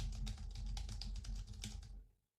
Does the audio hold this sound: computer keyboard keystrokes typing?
yes